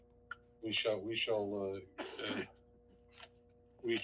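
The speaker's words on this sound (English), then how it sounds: "I'm going to be coughing periodically" A few short coughs and a throat clear close to the mic, with spoken voices in between and a steady low hum underneath.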